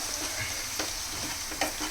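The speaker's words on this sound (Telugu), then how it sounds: "ఈ ఆనియన్స్ కొంచెం ఫ్రై అవ్వాలి." Onions frying in hot oil in a home kitchen pan, a steady close sizzle broken by a couple of brief scraping stirs from a spoon.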